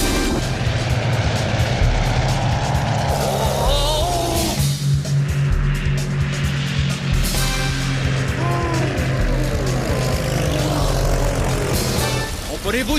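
A cartoon propeller plane's engine drones steadily with rising and falling pitch, loud and continuous, while voices speak over it at times.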